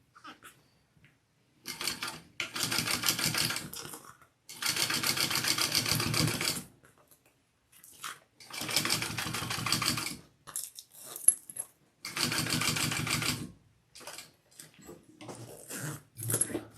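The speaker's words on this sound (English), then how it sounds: "And we are going to top stitch out this way." A sewing machine top stitches the side panel of a handbag in several bursts of rapid, close mechanical whirring, separated by quiet pauses and small clicks as the work is repositioned.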